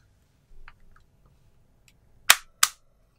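Decocker of a Tokyo Marui USP9 airsoft pistol snapping onto safe, two sharp, close metallic clicks about a third of a second apart after a few faint handling ticks.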